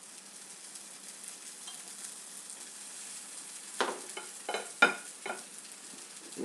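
An egg fries quietly in a pan for eggs in a basket, giving a soft steady sizzle with a few sharper stirring and scraping taps near the end.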